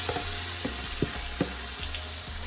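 Minced meat sizzles and fries steadily in hot oil with browned onions for a keema dish, with a continuous crackle and a few soft stirring knocks and clicks.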